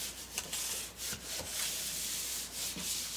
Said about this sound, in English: So then we're just going to rub it.